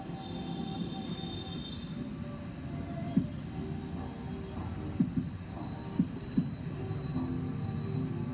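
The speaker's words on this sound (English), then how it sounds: "It started raining again, and I have to stop the video again." Steady rain falls outdoors in a natural setting, a broad continuous hiss with a few louder drips or taps standing out now and then; no talking.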